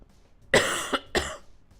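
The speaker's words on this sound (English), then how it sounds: "Sorry for a second, I'm having a coughing fit" A person coughs twice in quick succession during a livestream, two sharp, close bursts separated by a brief pause, with near silence around them.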